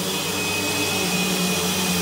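A vacuum cleaner runs steadily and loud, one of three compared machines from Eureka, Bissell and Vaclife, giving a constant motor whine with broadband airflow hiss and no pauses.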